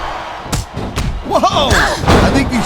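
Arena crowd in WWE Smackdown vs RAW 2008 during an Ashley vs Michelle McCool Ironman match: a steady roar of fans, broken early by two heavy ring thuds, then swelling into loud, wavering shouts and chant-like cries.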